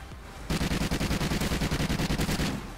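Maverick assault rifle in Call of Duty Ghosts fires a sustained automatic burst of rapid, evenly spaced loud shots lasting about two seconds, starting abruptly after a quiet lead-in and cutting off near the end.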